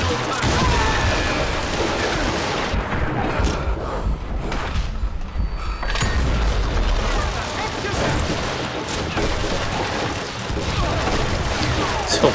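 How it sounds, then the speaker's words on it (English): Dense, continuous roar of crashing debris and rumbling collapse as a building comes down in the western shooter Call of Juarez: Gunslinger, loud throughout with layered impacts and a brief dip midway. "This whole place is coming down."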